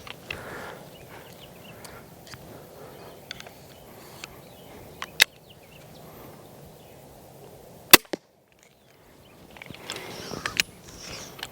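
A toy ballista fires a bolt with a single sharp snap, preceded by faint mechanical clicks and handling noises and followed by a moment of quiet.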